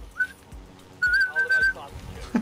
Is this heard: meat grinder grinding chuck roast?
no